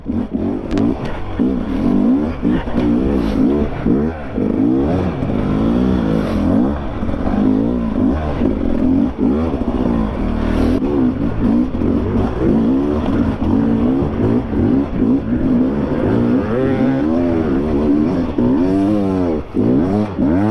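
Beta and Sherco carbureted enduro motorcycles ridden on ice, their engines revving loudly and continuously up and down close by, with rapid pitch swings and clattering.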